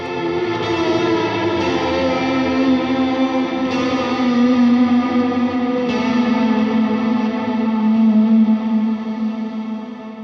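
A sustained, shimmering electric guitar chord drenched in reverb and modulation, washing on with slowly changing notes and swelling layers.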